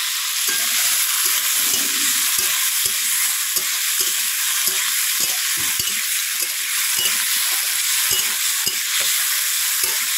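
Potatoes frying in a wok with nigella seeds and green chillies, a loud, dense, unbroken sizzle with regular soft stirring thumps throughout.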